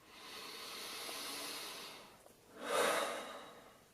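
Slow deep breaths during meditation, a long airy inhale followed by a stronger, breathy exhale, close and alone without talking.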